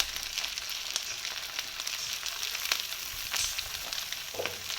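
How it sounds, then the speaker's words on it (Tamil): Three large sliced onions and green chillies fry in a pan for Kerala-style beef kondattam. The oil gives a soft, steady sizzle with scattered crackles and pops, and no one speaks over it. "பெரிய வெங்காயம் 3 பெரிய வெங்காயத்தை ஸ்லைஸ் பண்ணி வச்சுருக்கேன்,"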